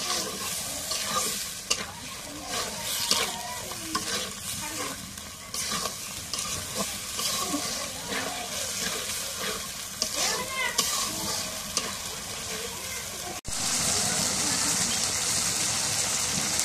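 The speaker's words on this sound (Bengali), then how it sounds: "এখন মশলাটা কষানো হয়ে গেছে, মাংস দিয়ে দিই।" A paste of ground garam masala, garlic, cumin and ginger sautés in a pan, with a continuous sizzle and frequent spatula scrapes. Near the end the sizzle jumps to a louder, brighter hiss.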